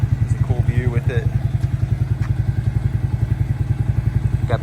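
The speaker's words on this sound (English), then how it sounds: "it's a 300, it's a single cylinder engine, carbureted of course" A 2002 Suzuki King Quad 300 4x4 ATV with a carbureted single-cylinder engine idles close by in a steady, fast, loud thumping rhythm, while someone talks over it.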